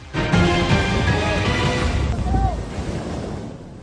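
Heavy surf crashing in rough, stormy seas as salvage workers struggle in the water, a loud continuous roar of breaking waves with gusty wind noise, one big surge near the start and another midway.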